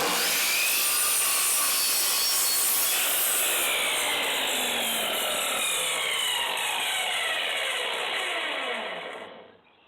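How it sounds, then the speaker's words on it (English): A chop saw cutting through wood, a loud continuous high-pitched whine and grind that holds for several seconds before the blade spins down. "I'm going to call it a chop saw"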